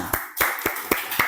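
Third-grade class of elementary pupils clapping hands together, five or six sharp, evenly spaced claps in quick rhythm, close and fairly loud with no voices.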